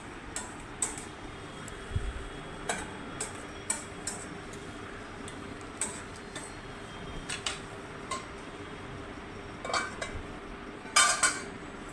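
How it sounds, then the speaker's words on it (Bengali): A spicy brinjal and peanut curry in a pot is stirred after hot water goes in, with scattered light clinks and taps of a utensil against the pot over a quiet background. "খানিকটা এখন দিলাম, ভালো করে নেড়ে দিচ্ছি।"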